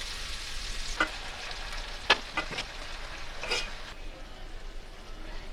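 Chicken pieces fry with onion and tomato in a pan, a soft steady sizzle broken by a few sharp spoon clinks and scrapes as the mixture is stirred, close by.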